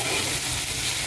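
Sliced bitter gourd fries with green chili and onion in a hot pan while being stirred, a dense close sizzle with scraping stir noises, loud and steady.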